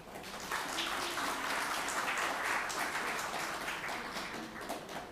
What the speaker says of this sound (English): May I begin the program and inaugurate with a big round of applause from each one of you.